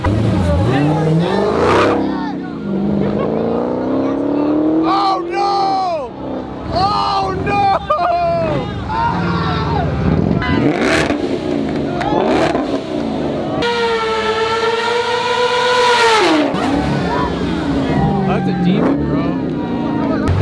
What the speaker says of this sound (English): Tell him to do a burnout.